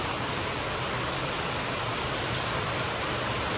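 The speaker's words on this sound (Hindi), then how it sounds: "तो अब ये बारिश ने कांड कर दिया" Heavy rain pours down steadily, a dense continuous hiss of drops with no break and no voices.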